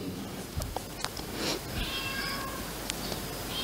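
A cat meows a few short times, fairly faint against a steady background hiss, with no talking.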